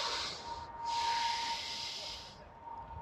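Slow, steady yoga breath during a standing pose: a long airy hiss of breath through the nose, close and soft, briefly pausing before a second long exhale, alone with no talk.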